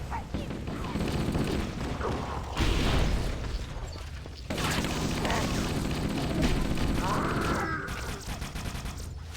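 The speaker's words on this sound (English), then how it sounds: "Stop shooting me!" Gunfire in Halo: Combat Evolved comes as dense bursts of shots and booming impacts, loud and continuous across a busy firefight, with some speech mixed in under the battle noise.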